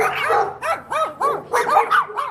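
A dog barks close by in a quick series of about seven loud, sharp barks with a whiny, yelping edge, alone and with no talk.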